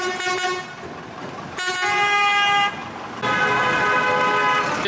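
Several vehicle horns honk in long, loud blasts, one after another, over the rumble of road traffic in Gazipur, beside schools, colleges and hospitals.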